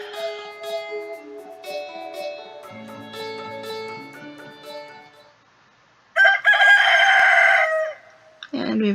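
A rooster crows in the farming video game Stardew Valley, a loud bright cock-a-doodle-doo heard once after soft game music with plinking tones, followed by a short burst of another sound.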